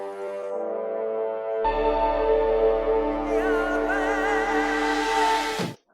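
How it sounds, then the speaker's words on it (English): A resonant, low, brassy swell in film trailer music holds steady, then thickens with a deep droning bass and rising wavering upper tones before cutting off abruptly at the end. The sound is loud and sustained, with no voices. "It's a beautiful kind of brass sound."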